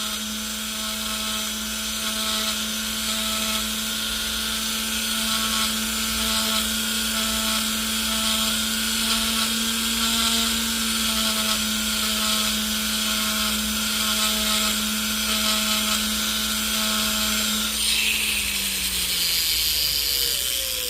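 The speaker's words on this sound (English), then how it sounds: "we're just going to file that excess down on the inside where we had to weld it under the head there" Excess weld material is filed down on the inside of a repaired part beneath its head, heard as a steady high-pitched grinding whine that holds close and even, then winds down near the end.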